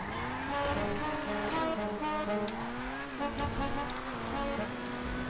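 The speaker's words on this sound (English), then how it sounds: "Car sounds like it's crippling depression." A video game car engine drones steadily with a wavering pitch that dips and rises, sounding strained and sluggish, loud and close with no talk over it.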